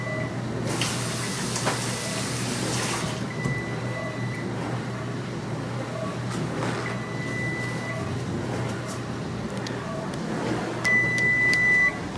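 Tap water runs steadily into a sink while makeup brushes are being washed, a constant hiss with a few faint electronic beeps partway through.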